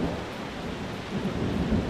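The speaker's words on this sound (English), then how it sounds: "Oh, it's raining!" Steady rain with a low rumble of thunder in the Euro Truck Simulator 2 driving game, a dense continuous hiss over a deep roll, fairly loud and unbroken with no voices.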